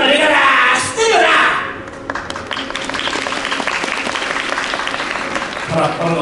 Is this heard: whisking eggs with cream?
no